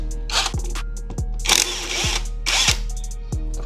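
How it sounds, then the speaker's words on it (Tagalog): A power impact tool bursts in repeated short hammering runs as it loosens a rear mudguard bolt on a Honda ADV 160 scooter, the bursts loud and close over a steady motor hum. "Gamitan natin ng impact tool."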